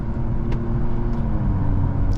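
A 500hp BMW 435i exhaust burbles with a steady, low, close rumble. A few faint, brief crackling pops break through now and then.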